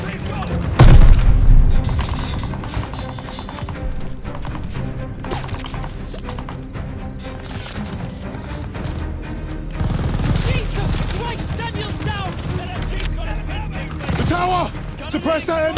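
A Call of Duty: Vanguard battle rattles with machine gun fire and heavy booms, the bursts swelling and fading over a battlefield din while a voice shouts over the fighting.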